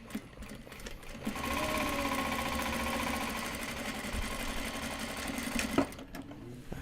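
A sewing machine runs a steady whirring, rattling burst while stitching a full seam on a Japanese fabric bag, close and continuous for several seconds before stopping with a click.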